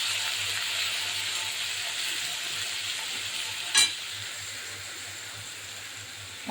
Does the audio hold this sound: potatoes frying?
yes